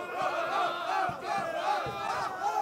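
Streetball crowd roaring and chanting around a game, a thick wall of many voices rising and falling in loud waves.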